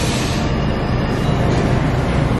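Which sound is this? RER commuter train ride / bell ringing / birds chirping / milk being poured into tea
RER commuter train ride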